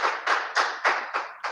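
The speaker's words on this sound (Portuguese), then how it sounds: "Aplauda o Senhor Jesus, que Ele é maravilhoso, amados irmãos." A church congregation claps together in praise, six broad bursts of applause in a steady rhythm, loud and close with no voices over it.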